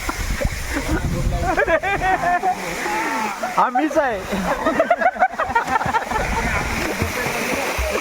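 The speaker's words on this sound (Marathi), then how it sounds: "आज आम्ही आलेलो आहोत सर्व या धबधब्यावरती" A year-round waterfall in a Konkan village rushes steadily and loudly throughout, with people talking over the constant splashing roar during a Holi gathering.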